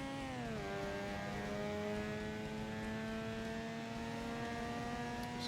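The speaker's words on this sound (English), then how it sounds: "Which sounds a lot like a two-stroke engine, to be fair." A car engine in the Forza Motorsport racing game with a buzzy, two-stroke-like tone, revving up then holding a steady high drone close and loud, no one talking over it.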